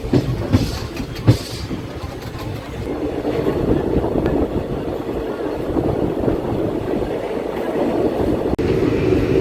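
16053 Tirupathi Express rolling steadily on the rails while turning off the main line to the right, a continuous low rumble throughout with a few sharp knocks near the start, heard from on board.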